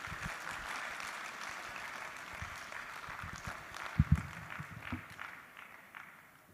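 A conference audience at a West African capital market event gives soft, scattered applause, fairly distant and faint, with a few louder knocks or thumps near the middle.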